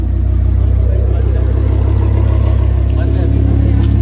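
Lamborghini V10 idling with its exhaust running, a loud, steady low rumble that holds constant throughout with faint voices underneath.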